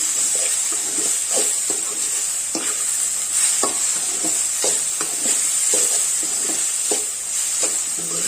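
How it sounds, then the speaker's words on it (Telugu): Cabbage being stirred in a pan after salt and turmeric are added for a cabbage fry, giving repeated scraping and stirring strokes over a steady sizzle, close up and fairly loud with no talking. "ఉప్పు పసుపు వేసిన తర్వాత ఇదైతే కలిసేటట్టు బాగా కలుపుకోవాలి"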